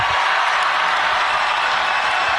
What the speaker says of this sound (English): This applause go on forever?